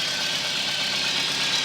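Engine of a Mk1-3 VW Golf or Polo with MP9 fuel injection and an over-fuelling fault idles steadily, a close, continuous mechanical hum with a faint knocking texture and no speech.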